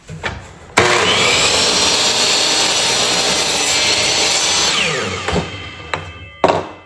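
A DeWalt DWS713 miter saw cuts through a piece of wood: a loud motor spin-up, a sustained roaring cut, then the blade winding down, followed by a few clacks.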